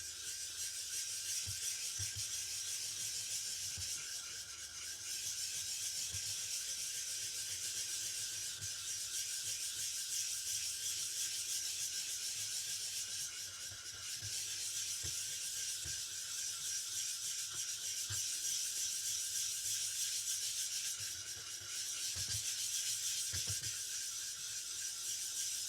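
Kitchen knife honed on a Suehiro Gokumyo 15000 whetstone, a soft, continuous scraping and rubbing with steady back-and-forth strokes, faint and close, without talk.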